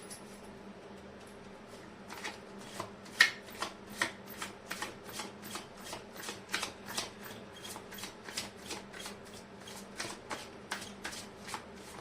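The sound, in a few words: shuffling tarot cards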